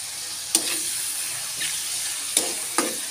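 Chicken fat melts and fries in hot oil in a small kitchen pan, giving a steady, close hiss with a few sharp crackles and pops standing out.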